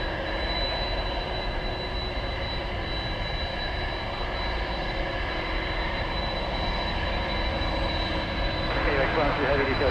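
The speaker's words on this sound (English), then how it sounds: "So here goes the Spirit aircraft off to Los Angeles." A Spirit Airlines jet takes off from DFW Airport at night bound for Los Angeles, a steady distant engine roar and whine holding over the whole stretch and swelling slightly toward the end.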